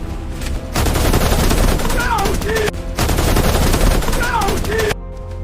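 A gunfire sound effect in a Swahili audio drama about a bank robbery shootout, loud bursts of rapid machine-gun fire in two long volleys separated by a short pause, with faint whistling tones over the shots.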